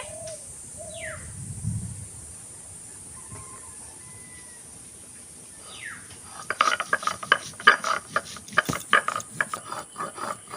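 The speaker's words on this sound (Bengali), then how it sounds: "আমি মাংসের মশলাটা শিলনোড়ায় বেটে নেব" Whole cumin is crushed on a shil-nora grinding stone, the stone rocking and grinding in a rapid rhythmic run of gritty strokes close by, with birds cooing and chirping in the background beforehand.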